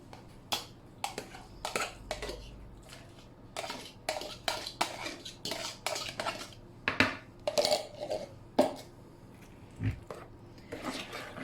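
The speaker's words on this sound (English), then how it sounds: "And now we're going to add the pumpkin and mix thoroughly." Pumpkin being mixed into pie filling in a bowl: irregular clinks and scrapes of a utensil against the bowl, quiet and close, in short bursts with brief pauses and no talking.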